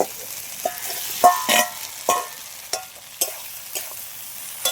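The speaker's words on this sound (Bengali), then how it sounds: "মশলার সাথে আলুটা একটু হালকা নেড়ে চেড়ে নিয়েছি" Fried potatoes being stirred into spice masala in a pan, a close series of irregular scraping clacks of a spoon against the pan over a faint sizzle, with no voices.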